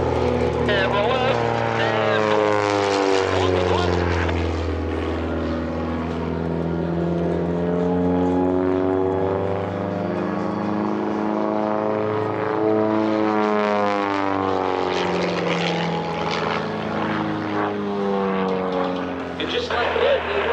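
Aerobatic propeller airplanes from Redline Airshows at EAA AirVenture 2026, flying an opposing inverted pass: a loud, continuous engine and propeller drone that rises and falls in pitch as the aircraft pass close by.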